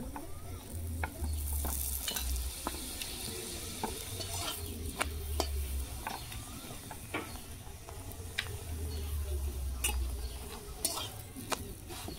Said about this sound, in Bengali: দুপাশ ভালো করে ভাজা হয়ে গেলে তারপর আমি তেল দেবো।